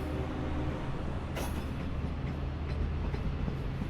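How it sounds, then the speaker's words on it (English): A Long Island Rail Road diesel train pulls out of Speonk station, a steady low rumble of engine and rolling wheels heard at moderate distance, with a brief hiss midway and no talk. "Okay, train is leaving Speonk now."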